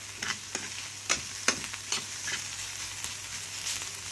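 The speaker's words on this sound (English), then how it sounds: "I'm not going to use a lot of oil to fry this onion" Onion and garlic frying in a small amount of oil, a soft, steady sizzle broken by sharp clicks and scrapes of a spoon stirring, close and alone.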